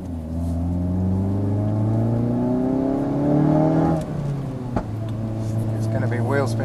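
A tuned 520bhp Ford Focus RS Hendy HP500 rises in engine note while its wheels spin in fourth gear on a slippery road, the loud rev climbing then easing off, with a voice talking over it.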